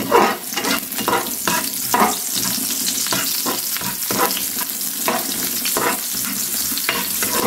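Onions dropped into a pan of browned chicken livers frying for adobo crackle and hiss loudly and steadily, with repeated scraping stirs throughout and no talking.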